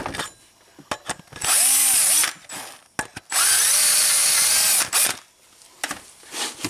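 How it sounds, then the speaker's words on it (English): A power drill with a 1/4 inch bit bores into a plastic A/C compressor pulley on a Toyota clutchless compressor: two loud, close bursts of high whining drilling, each a couple of seconds long, separated by clicks and handling noise. "drill right into your pulley in here"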